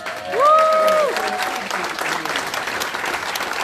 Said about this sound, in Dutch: Een heel groot applaus voor de mensen van de bediening en van natuurlijk van het eten en drinken